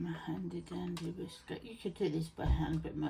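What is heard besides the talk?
None of the usual background noises is heard.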